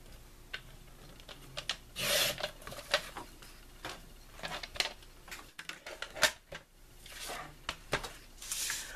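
Card stock for a handmade Valentine card is cut on a paper trimmer, giving close, quiet scraping and rubbing strokes with a few brief louder swishes and clicks in between.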